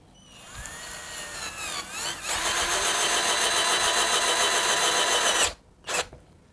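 A Mollar 12-volt cordless drill on speed 1 drives a screw into 15 mm multiplex plywood without a pilot hole. Its close whine rises, then holds steady for about three seconds before stopping, followed by one short extra burst.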